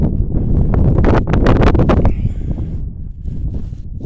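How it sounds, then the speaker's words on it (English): Strong wind gusts buffet a microphone outdoors in open desert washes near Panaca, Nevada. A loud burst of roaring is followed by a softer, steady rush. "Sorry about the wind, that was a big one."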